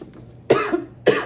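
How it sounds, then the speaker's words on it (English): Two sharp, close coughs from one person, spaced about half a second apart, each a harsh burst that trails off into a short rasp. "The longer I talk, like the more I start to get this cough."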